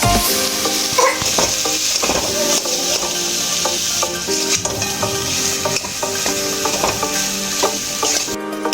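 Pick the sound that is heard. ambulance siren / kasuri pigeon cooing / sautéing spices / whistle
sautéing spices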